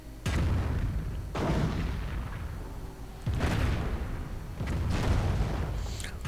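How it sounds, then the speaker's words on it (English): StuG/StuH 42 assault gun firing in a World War II strategy game: four heavy booming cannon shots spaced about a second or more apart, each with a long rumbling decay, loud and without speech. "Stu 42 from Grisen firing away"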